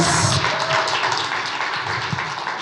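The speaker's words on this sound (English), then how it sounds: "Can we give him a round of applause?" A crowd gives a round of applause for Dr. Alistair Mokwena after a talk at a book fair, a dense, steady wash of clapping that stays loud throughout with scattered sharper claps and no speech.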